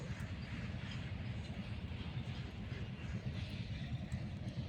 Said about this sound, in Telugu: చూస్తున్నాను నేను ట్రైన్